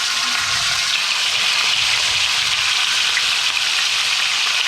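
Lamb shanks sear on their ends in smoking-hot tallow, giving off a loud, steady, close-up sizzle that hisses continuously without pause.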